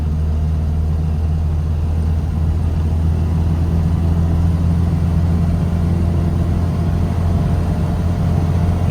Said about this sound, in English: Approaching 40 mile an hour. Accelerating around the bends.